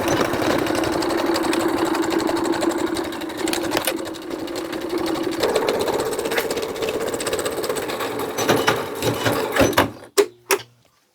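A sewing machine stitches steadily along an existing seam, joining fabric pieces and lace for a baby's beach poncho. It runs as a close, continuous whir for about ten seconds, then stops, leaving a few short clicks and taps.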